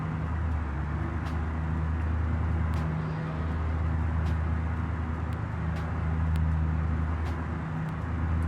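A giant truck engine in a video game, driven at light throttle, gives a steady, even low drone with a constant rumble and faint clicks on top, heard alone.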